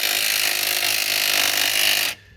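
A power tool whirs loudly and steadily while tightening front strut bolts on a 2000s Pontiac Grand Am, a continuous close-up buzzing run that cuts off abruptly near the end.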